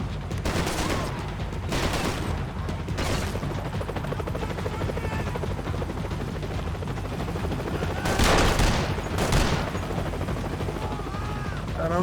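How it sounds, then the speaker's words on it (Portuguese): Gunmen open fire at Max in Max Payne 3, sustained bursts of automatic gunfire over a constant helicopter-like rotor drone, with louder volleys near the start and again later. "tem gente atirando no Max"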